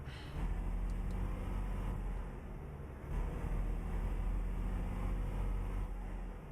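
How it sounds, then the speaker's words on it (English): Steady low rumble of a truck engine in American Truck Simulator, a constant droning hum that swells slightly midway, loud and continuous with no talking. "It's mostly the engine. Sometimes the engines are a little bit louder than the others."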